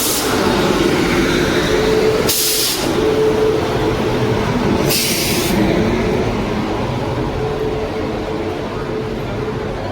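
A train rumbles through a railway station on the Panvel–Kankavli route in the Konkan, a loud, continuous roar and rattle close by, broken by two brief bursts of hissing noise.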